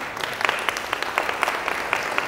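A congregation at a church gathering in Namkum, Ranchi, breaks into brief applause, a bright wash of many claps at moderate level.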